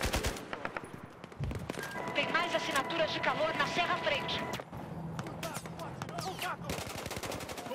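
Rapid automatic gunfire in Battlefield 4, with bursts of close, sharp shots repeating quickly over several seconds amid other battle noise, while someone talks over it.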